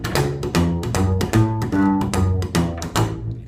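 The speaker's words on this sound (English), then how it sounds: "If you listen for it, you can hear that string hitting the fingerboard." Repeated single slaps on a double bass: each string is pulled and snaps back against the fingerboard, giving crisp percussive clicks over deep plucked notes in a steady, driving rhythm, close and loud with no talking.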